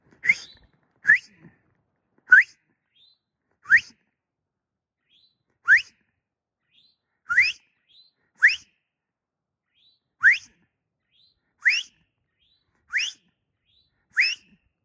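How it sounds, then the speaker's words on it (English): Birds in a Shenandoah forest give repeated clear whistled calls, about a dozen short rising notes spaced roughly a second apart, moderately near and heard alone in an otherwise quiet setting. "Are you guys whistling at me?"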